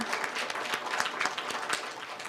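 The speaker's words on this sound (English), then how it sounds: "Let's give a bigger and better round of applause to the chief guest." A crowd applauding a chief guest at a High Commission event, dense sustained clapping from many hands throughout, loud and even.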